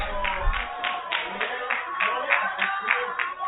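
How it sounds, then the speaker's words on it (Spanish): Legislators in a session chamber clap in a loose, steady rhythm, with speech-like murmurs and voices mixed underneath. "Está bien, aplaudan."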